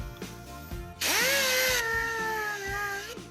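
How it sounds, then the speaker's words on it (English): A power sander sands paint with 400-grit paper on a 1950s refrigerator, spinning up with a rising whine and then holding a loud, steady high-pitched whir before winding down. "You keep sanding until it's all so smooth"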